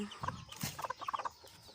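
Agitated hen clucking near her eggs, a close burst of sharp, rapid clucks and throaty sounds.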